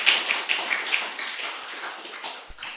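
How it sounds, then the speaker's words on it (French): Brief round of audience applause at a motion design meetup, fairly even clapping for under three seconds with a few distinct claps standing out. "si vous voulez applaudir."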